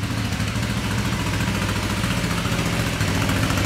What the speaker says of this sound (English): Got it running. It even sounds good. It's all rattly, just like they're supposed to sound.